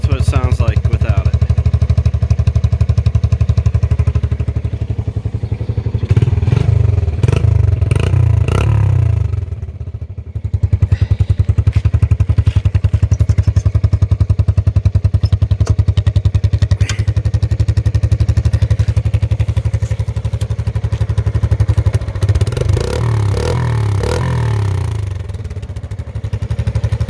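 A Badger 80cc motorbike with its exhaust silencer core removed, heard close as a rattly engine that repeatedly revs up and drops back to a busy idle, with clatter and scraping, while someone talks over it at times.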